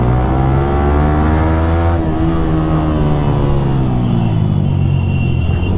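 A loud, steady engine roar from a Yamaha R15 V3 and a Royal Enfield Bullet 350 racing each other, with the pitch slowly shifting as revs change, close and continuous with no talk.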